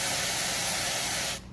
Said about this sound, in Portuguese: eu vou fazer a aplicação do spray